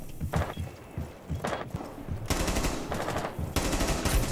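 Rapid automatic gunfire in the video game Rainbow Six Siege, loud close bursts of rattling shots with short gaps between sustained volleys.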